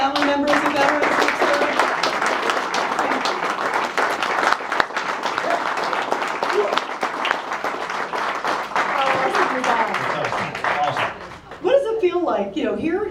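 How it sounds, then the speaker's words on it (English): A crowd applauds veterans and their families standing at a talk by Navy SEAL Robert O'Neill, with steady sustained clapping for about eleven seconds before it fades and a voice speaks. "would you please stand so we can all give a big round of applause to you?"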